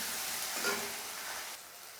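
Chopped onions frying in a pan for a chicken gizzard and liver dish, an even hissing sizzle that softens slightly toward the end, close and steady with no voices.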